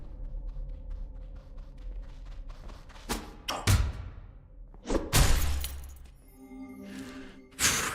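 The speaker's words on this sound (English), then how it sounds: "He's exploding like a bomb" Video game enemy in Nox Mortalis exploding like a bomb: several sharp crashing, shattering bursts with glassy debris, a big one mid-clip and another at the end, over a low rumbling game backdrop.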